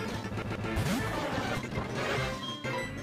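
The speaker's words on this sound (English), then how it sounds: "Dark Pulse, that'll hurt you bad." A crashing Dark Pulse attack hit from the video game Pokemon Soul Silver: a single smashing impact with a rising sweep over busy game music, fairly quiet overall.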